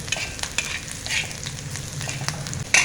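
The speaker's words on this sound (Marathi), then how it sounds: "लसूण कांदा मिरची सगळं व्यवस्थित फ्राय झालेलं आहे" Garlic, onion and chili fry in hot oil with a close, steady sizzle broken by short scraping stir strokes and a sharper clatter near the end, all over about three seconds without speech.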